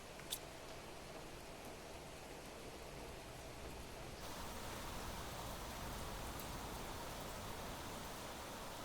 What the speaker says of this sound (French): Et la pluie